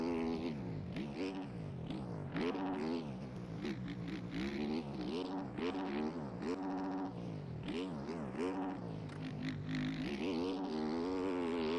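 Motorbike engines in a racing video game rev and whine continuously, pitch climbing and dropping through rapid gear shifts and throttle blips, loud and close with no talk.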